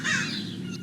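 A single crow-like bird caws once, a short, harsh, close call over a faint background.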